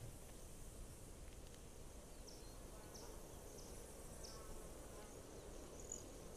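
Crickets chirp in the survival video game This Land Is My Land, a faint, steady insect drone over a dense, hissy ambient bed, with soft, repeated chirps across several seconds.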